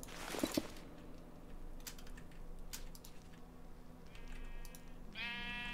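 Sheep bleating in a Minecraft-style video game, a few short nasal bleats near the end over a quiet game backdrop with faint clicks.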